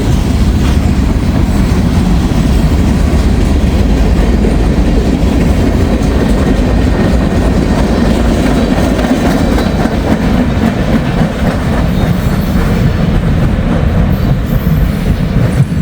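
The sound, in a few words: train passing a crossing, end of the train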